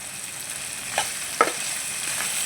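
Curry leaves sizzle in hot oil in a pan for ridge gourd chutney, a soft steady frying hiss with two quick crackling pops as leaves hit the oil.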